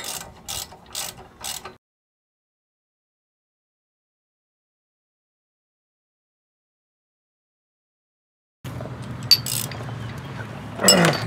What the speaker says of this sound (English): I'm gonna use a ratchet to get it started,